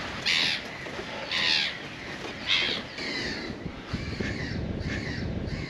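Crows cawing in repeated loud bursts near a nest on the windswept Marker Wadden islands, with softer bird calls between the caws and steady wind noise underneath.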